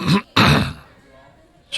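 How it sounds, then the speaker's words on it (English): Two quick, harsh coughs close together, followed by a pause and the start of a third, close to the microphone. "I'm coughing here"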